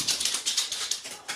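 A dog whimpers in a run of short, high, whiny cries, close and fairly loud, with no talking over it.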